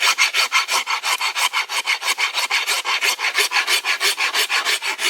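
Rasp filing a bamboo bow limb to thin it and bevel its edges, a steady run of about two dozen even back-and-forth scraping strokes, close and fairly loud, with no talk.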